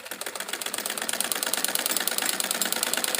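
A sewing machine stitches a salwar seam with a rapid, even mechanical clatter of needle strokes that grows slightly louder and faster, close and steady with no talking.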